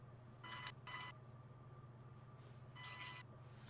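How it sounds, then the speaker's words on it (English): Faint electronic tones sound in a Morse-code-like pattern: two short beeps close together, a pause, then one longer beep, all over a low steady hum. "they're talking to us in Morse code"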